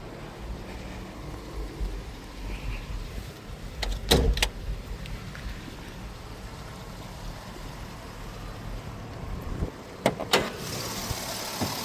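A 2006 GMC Sierra SLT Z71 pickup's 5.3-liter V8 idles quietly with a low, steady hum, broken by a couple of sharp clicks or knocks near the start and end.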